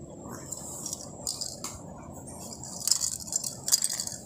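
Fish roe being stirred in a cooking pot: a utensil scrapes and clinks against the pot in quick, light, irregular taps, close and fairly quiet, with small wet squishes between them.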